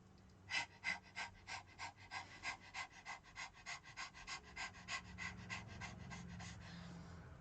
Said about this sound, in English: It's okay if panting breath is a little bit difficult for you.